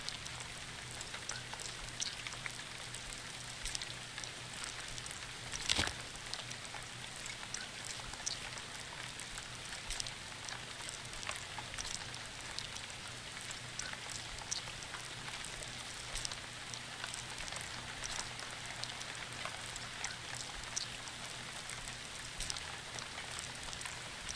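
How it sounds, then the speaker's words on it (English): Steady rain in the video game Dread X Collection: The Hunt patters continuously at a moderate level, with one brief sharp tap partway through. "I might need to do rain sounds for this."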